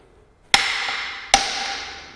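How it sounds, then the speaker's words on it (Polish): Two sharp hammer blows, about a second apart, each with a ringing metallic decay, knock out the piston of a Fox SC 32 Performance Grip bike suspension fork with a tool threaded onto it. "Teraz za pomocą młotka możemy odbić tłok."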